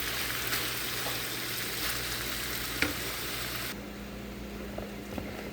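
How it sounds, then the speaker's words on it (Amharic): Red onions sauté lightly in a pan with a steady, close sizzle and soft stirring scrapes that carry on throughout, growing a little quieter toward the end, with no voices. "ቀይ ሽንኩርቱን ብዙ አናበስለውም፣ ለብ ብቻ ነው የማደርገው።"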